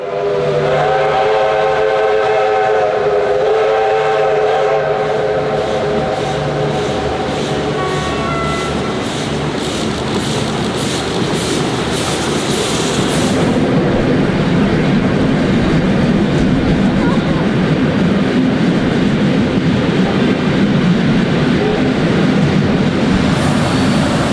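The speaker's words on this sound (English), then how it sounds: "This 13-carriage behemoth, headed by two mighty R-Class Hudson steam locomotives, absolutely belted its way east" Two R-Class Hudson steam locomotives haul a 13-carriage train in Victoria, Australia; a loud, sustained steam whistle sounds over heavy rolling rumble and rhythmic chuffing that continues strongly after the whistle stops.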